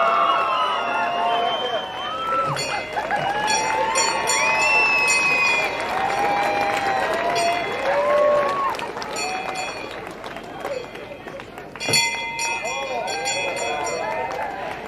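A crowd cheers and applauds for Australian surfer Isabella Nichols at a surf event, a loud sustained roar of clapping and shouts with whistles, while people talk over it throughout.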